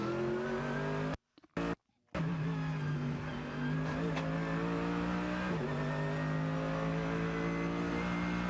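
GT race cars accelerating around the Macau street circuit in the FIA GT World Cup, with loud sustained engine drone and rising gear-by-gear pitch, a brief dropout early on, then steady throttle as a car passes close by.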